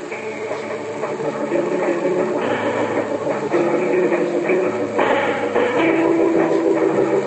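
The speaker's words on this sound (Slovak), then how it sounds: "Uvoľnenie podvozku sa najlepšie dosiahne, ak lokomotíva prejde tesne pred vážením cez umelú prekážku." A locomotive rolls over an artificial obstacle on the track just before being weighed. A steady, loud rumble of wheels carries rhythmic rail clicks and clanks throughout, with no voices.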